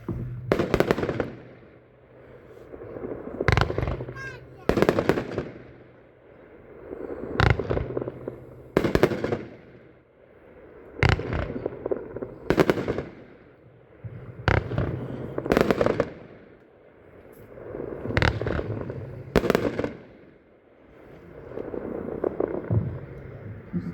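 Kaleidoscope 24-shot consumer firework cake in bright neon colors, firing a steady run of loud, sharp bursts spaced a second or two apart, each with a crackling tail, heard up close with no talking.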